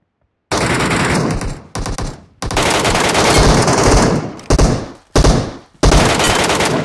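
Sustained automatic gunfire from bots in the Metro Royale mode of a mobile battle royale game, loud and close, coming in long bursts broken by several brief pauses, with no talking over it.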